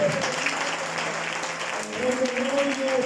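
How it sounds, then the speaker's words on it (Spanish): A church congregation at an anniversary service applauds strongly and steadily throughout, a continuous wash of clapping with a sustained tone and a voice speaking over it. "¿Cuántos le dan un fuerte aplauso?"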